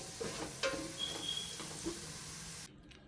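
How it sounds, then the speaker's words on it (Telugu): Tomato pieces being stirred into a pan while cooking paneer pulao, with a soft continuous sizzle, a few light scraping knocks of the spoon, and a sudden cut to near silence at the end. "టమాటా ముక్కల్ని కూడా ఇందులో వేసుకోవాలి ఇలా అంతా కలుపుకోవాలి"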